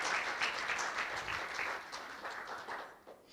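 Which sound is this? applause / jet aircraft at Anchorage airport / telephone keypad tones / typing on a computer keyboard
applause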